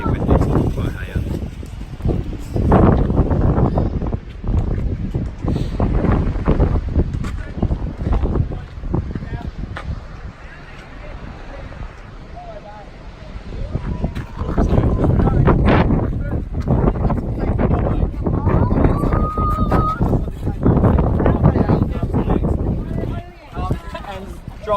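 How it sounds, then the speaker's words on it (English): Strong gusts at a high coastal lookout over Bass Strait on Australia's Great Ocean Road batter the microphone in loud, buffeting rumbles that rise and fall, with people talking intermittently underneath. "It's really windy, it's quite high up."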